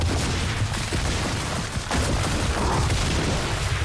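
Sustained gunfire in the video game Gears of War 4, a dense, continuous barrage with booming low end that runs steadily throughout with only a brief dip near the middle.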